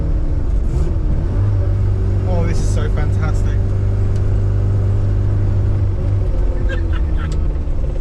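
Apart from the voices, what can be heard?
1981 Mini 1000 driving in third gear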